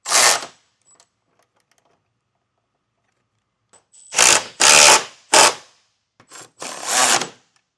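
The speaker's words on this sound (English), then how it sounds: "I'll start with our pinch weld bolts. It's a 16mm socket, and I'll use a 15mm wrench to hold on to that nut." A ratchet with a 16mm socket working on the pinch weld bolts for running boards on a 2025 Ford Explorer, short loud clicking bursts, one at the start and a cluster near the end, separated by silence.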